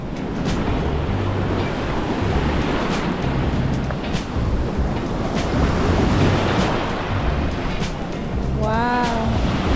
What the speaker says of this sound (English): the waves are on.